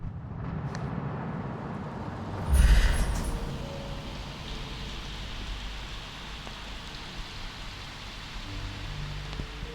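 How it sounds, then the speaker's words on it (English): Steady rain falls in a video game scene, a constant soft hiss with a brief louder thump near the start and faint background rumble, with no voices. "it was raining early that morning"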